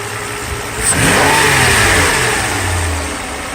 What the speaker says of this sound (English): Engine runs fine.